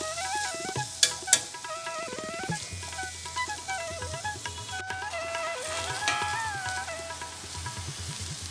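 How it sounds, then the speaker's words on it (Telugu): Bitter gourd pieces fry in a covered pan over a medium flame, giving a steady, close sizzle that lasts throughout, with a few sharp clicks near the start and soft background music. "ఈ కాకరకాయ ముక్కల్ని మూత పెట్టి మీడియం ఫ్లేమ్లో 10 నిమిషాల పాటు బాగా ఫ్రై చేసుకోవాలి"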